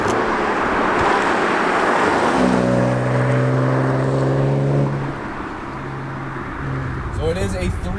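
A supercharged Audi S5 with a 3-liter V6 is being driven. Its engine note climbs through a rising whine before easing off, over steady road noise, with voices heard inside the car.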